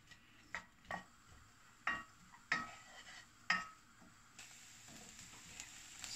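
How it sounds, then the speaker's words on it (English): Two large shallots sizzle in a pan for chicken and plum, with a spoon scraping and clinking at a steady rhythm of about five strokes, close and fairly quiet. "And then I'm going to stir it until it's slightly golden"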